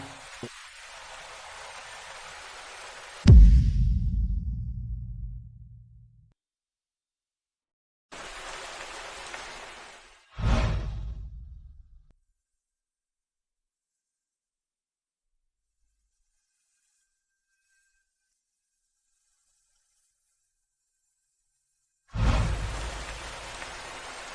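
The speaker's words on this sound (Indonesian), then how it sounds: "Hujan makin deras." Heavy rain pours in a few loud, steady bursts separated by long stretches of silence, with deep booming thuds at the start of some bursts.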